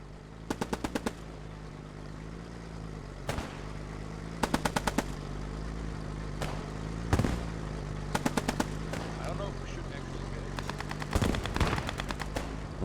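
Gunfire from a World War II battle in the video game Post Scriptum comes in rapid bursts of automatic fire and single shots, spaced irregularly over a steady low rumble, fairly close and loud, with no talking.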